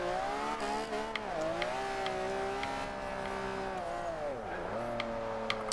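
A 2002 Ferrari Enzo in Forza Horizon 2 drives close and loud, its engine note rising and falling through gear changes and cornering, with brief tire squeal.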